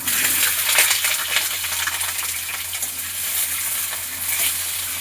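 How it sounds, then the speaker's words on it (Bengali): Long strips of potato and green chillies frying in hot oil in a home kitchen, a steady close crackling sizzle with faint clinks of stirring throughout, no voices. "এই যে আলু আর এই কাঁচা লঙ্কাটা এই তেলের মধ্যে দিয়ে দেবো।"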